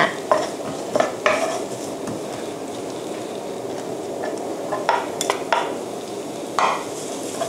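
Onions stir-fried with garlic in a pan for a kimchi seafood pasta: a steady soft sizzle runs throughout, broken by repeated scraping and clinking strokes of a utensil against the pan.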